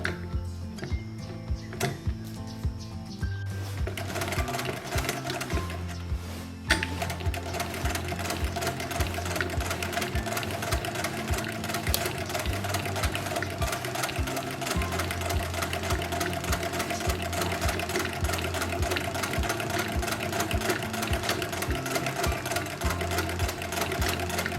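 A sewing machine runs steadily while stitching a French seam in fabric, its fast needle rhythm close and continuous for over twenty seconds after a few short starting bursts, with no talking.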